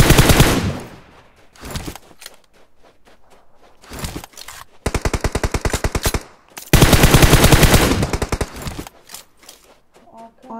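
Automatic weapon fire in a PUBG match on the Miramar desert map, with sharp rapid bursts in two long sustained volleys and shorter scattered shots, loud and close, with other game noise in the gaps.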